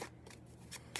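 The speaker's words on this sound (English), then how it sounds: "So I'm going to shuffle, just to give you an example. A little shuffle here." Lenormand cards are riffled and shuffled by hand, a quiet, close rustling of stiff cards with a few slightly louder flicks.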